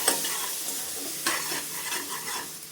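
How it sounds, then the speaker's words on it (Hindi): Rice and spices stir-fried with a couple spoons of yogurt in a pan for masala pulao, a soft sizzle under repeated scraping stirs of a spoon against the pan. "इसी में 2 चम्मच दही डाल देंगे और इनको चलाते हुए हम भून लेंगे।"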